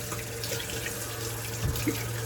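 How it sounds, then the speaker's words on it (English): A tap runs steadily, water splashing continuously close by while shaving soap is being wetted, with a faint low clunk near the end. "Add just a little bit more water."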